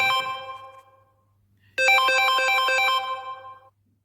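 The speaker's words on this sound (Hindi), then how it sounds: "मेरा फोन बीच में क्यों बज रहा है?" A mobile phone ringtone plays a bright, tonal melodic phrase, fades, then rings again with a rhythmic repeated pattern, clear and close, with no talk over it.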